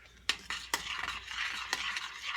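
A spoon stirs a pot of grits with a few sharp scraping strokes against the pot, close and fairly quiet, with a soft sizzling hiss between the strokes.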